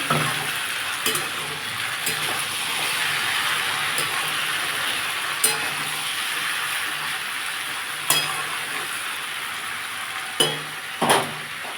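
Potatoes frying in a pan for an egg and potato dish give a steady, moderate sizzle, with occasional sharp clinks of a utensil against the pan.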